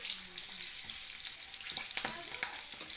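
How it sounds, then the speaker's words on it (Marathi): Green chillies frying in hot oil, a steady, quiet crackling sizzle with small pops and bursts of spitting, heard close and without talk. "ह्या मिरच्या टाकते बघा मी दोन मिनटात आपलं हळवून घेते गरम गरम तेलामध्ये"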